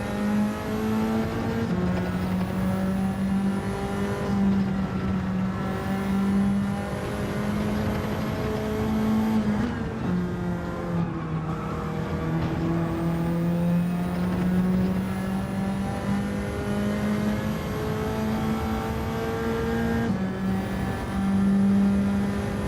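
A Nissan Silvia race car engine in Gran Turismo 7 drones loudly and continuously, rising and falling through gear changes as it accelerates and brakes through corners, with no talk over it.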